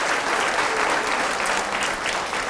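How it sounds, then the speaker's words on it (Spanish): Loud, steady applause from a church congregation honoring Jesus during a Catholic service, a dense continuous clapping that fills the space without pause. "Fuertes aplausos a Jesús"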